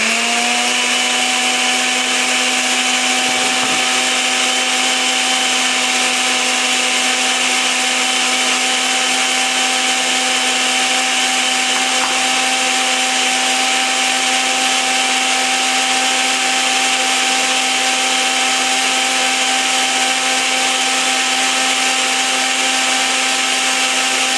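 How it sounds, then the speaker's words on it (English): A blender runs steadily on high speed, blending a banana peanut butter protein shake with a constant, loud motor whine and no pauses, alone without talk. "I would blend this together until it's smooth. I'm blending on high right now."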